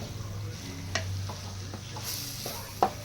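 Cabbage is stirred into fried masala in a pan, giving soft sizzling with a low hum beneath and a few scraping clicks of a utensil against the pan.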